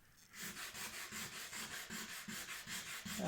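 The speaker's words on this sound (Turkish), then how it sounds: "Hem de daha güzel yüzey versin diye ıslak zımpara yapıyorum." Wet sandpaper rubs back and forth across a repaired guitar body in steady, even strokes, each pass a close, scratchy swish repeating about every third of a second with no talking.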